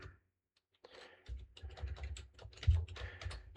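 A password is typed on a computer keyboard in quick, soft, close clicks and key taps after a brief silence, fairly quiet with no voices.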